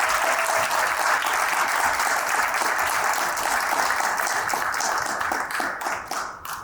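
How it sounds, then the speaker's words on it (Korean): An audience at a church reform group's 20th anniversary ceremony applauds to welcome a singer to the stage. The hall fills with loud, dense clapping that thins and fades over the final seconds. "여러분 큰 박수로 환영해 주시기"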